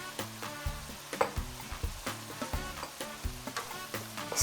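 Soy sauce and oyster sauce are stirred into empanada filling in a pan, with quiet, rhythmic scraping strokes of a spoon over a low sizzle.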